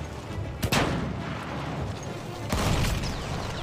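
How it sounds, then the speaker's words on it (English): Gunfire in Battlefield 1, a machine gun in a World War I setting, heard as a couple of sharp cracks and a later heavier burst that sit over a dense, noisy battlefield backdrop. "Oh, that's a machine gun."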